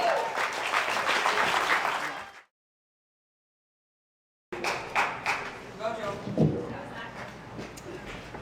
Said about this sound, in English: Thank you for the tepid applause.